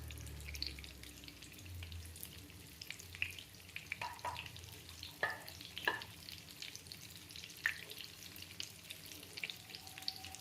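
Oats cutlets fry in a pan with a soft, continuous sizzle and crackle. Scattered utensil taps and pops punctuate it, and a brief low rumble comes near the start, with no talking.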